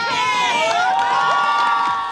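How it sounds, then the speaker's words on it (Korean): Crowd of residents cheering and whooping at a lively market event, loud and continuous shouting with children's voices mixed in. "다 함께 환호하고 즐깁니다"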